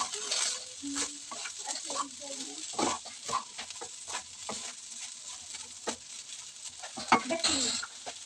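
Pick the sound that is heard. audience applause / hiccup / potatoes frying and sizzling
potatoes frying and sizzling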